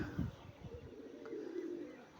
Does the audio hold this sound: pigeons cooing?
yes